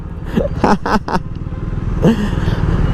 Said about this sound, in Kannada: ಈಗ ಬರ್ರೋ ಬರ್ರೋ ಬರ್ರೋ ಬರ್ರೋ ಬರ್ರೋ ಬರ್ರೋ ಅಂತ ಹೋಯ್ತಾರೆ ನೋಡಿ